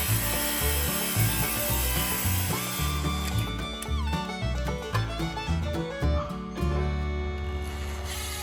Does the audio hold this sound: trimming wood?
yes